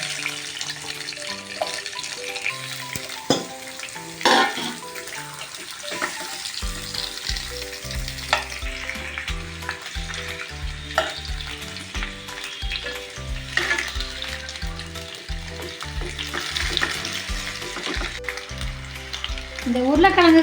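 Potatoes frying with curry leaves in a pan, a steady loud sizzle with stirring scrapes throughout, over background music.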